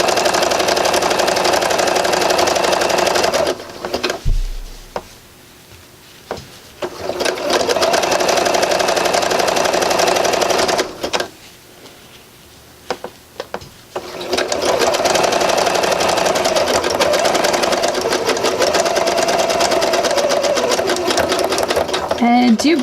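A home sewing machine stitching a knit seam while refashioning a sweater into a capelet, running in long loud steady bursts with two quieter pauses between them.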